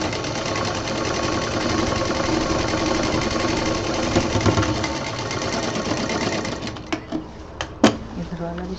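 A sewing machine stitches fabric for a homemade baby diaper bag, a fast steady whirring run that slows and ends with a few clunks and clicks at close range.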